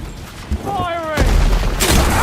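Weapons fire in Horizon Forbidden West as loud booming blasts, with a rising whine of a charging shot before heavy bursts, close and punchy; a voice shouts over the action.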